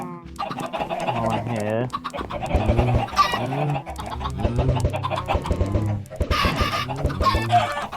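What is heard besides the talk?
baby chickens clucking in video game Minecraft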